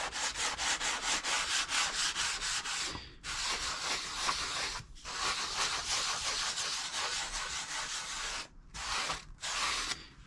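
Wet 600-grit sandpaper rubbed gently over an airbrushed ice-crystal candy effect paint surface, giving a steady, close, loud scratchy swishing in long strokes with a few short pauses.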